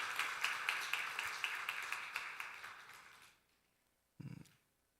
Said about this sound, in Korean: 큰 박수로 우리 환영하도록 하겠습니다